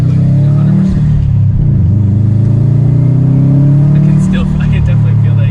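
A Stage 2 Subaru STI engine revs and pulls while driving, a loud steady low drone from inside the car with rising and falling throttle, and people talk over it.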